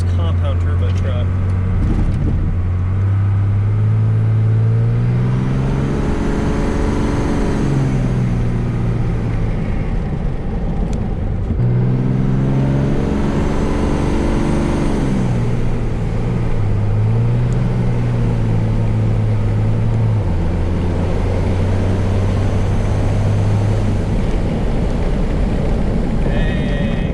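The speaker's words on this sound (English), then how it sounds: "hopefully you guys can get a good sound of this twin turbo, of this compound turbo truck" Cummins diesel pickup with a compound twin-turbo setup, engine droning loud and close with rising and falling revs and turbo whoosh across repeated pulls, while a voice talks over it.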